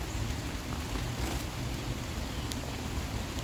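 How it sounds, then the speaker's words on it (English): Rain falls steadily by the flooded Potomac River, a constant broadband hiss with a few faint drop ticks and no talk. "I'm trying to hold off putting anything away, but the rain is coming."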